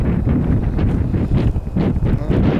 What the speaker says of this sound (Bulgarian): има и доста вятър тук.